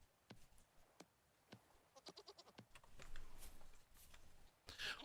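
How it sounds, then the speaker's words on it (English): Goats in the video game Vintage Story let out a series of short bleats, scattered at first and then in a quicker run, mixed with faint game clicks and ambience. "The goats are so cool."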